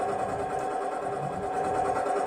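Steady droning of a running tractor engine heard up close, a constant mid-pitched hum with slight rattling vibration and no change in speed over the short stretch.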